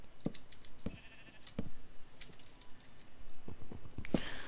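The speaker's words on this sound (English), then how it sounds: "Hey, sheep." Sheep in the Minecraft video game bleat in a series of short, clipped calls spread over a few seconds, with faint clicking and ticking game sounds in the background and no talking.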